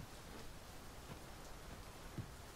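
Steady, faint rainfall hisses across the scene in the video game Dragon's Dogma 2, an even wash of drizzle with a couple of soft drips standing out near the end.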